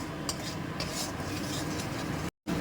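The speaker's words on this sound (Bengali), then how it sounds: "এখন এটাতে একটু সামান্য জল দিয়ে মশলাটাকে আমরা বেশ ভালো মতনভাবে আরও একবার কষিয়ে নেব।" Masala being stir-fried with a splash of water for a yam and prawn curry, a close, continuous scraping and stirring in the pan with faint sizzle and a brief gap near the end.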